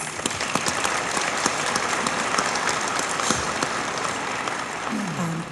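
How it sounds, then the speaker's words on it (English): Sustained round of applause from a gala audience, dense and steady throughout, with a voice beginning to speak near the end. "So let's give them a round of applause"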